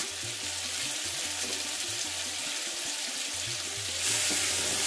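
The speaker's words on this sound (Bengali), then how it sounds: "এবারে আমি জল দেবো, এবারে আমি জল দিচ্ছি" Water poured into a pan of cooking potatoes for a Bengali paneer dish, a steady rushing hiss with faint sizzling that swells louder near the end.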